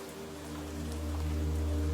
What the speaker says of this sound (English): The rain is starting to fall.